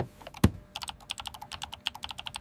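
Fingers type rapidly on a computer keyboard in an office while entering letter and agenda data, producing close, crisp key clicks in quick irregular bursts after one sharp louder tap.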